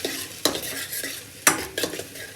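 Whole cumin seeds roasting in a pan, stirred with a utensil: two sharp scraping knocks against the pan and a few softer clinks over a faint steady sizzle, close and alone with no talk.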